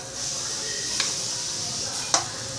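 Vegetables and spice powder fry in a pan with a steady bright sizzle, broken by two sharp taps of a stirring utensil against the pan.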